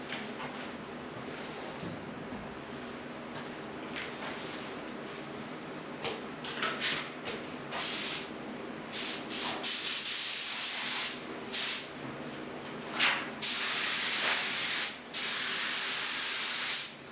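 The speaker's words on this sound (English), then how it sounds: "the clear is going on good" Clear coat sprayed from a spray gun onto the front fenders of a 1956 Mercury, a continuous close hiss that steadies and grows stronger in bursts, with brief gaps between passes and no talk.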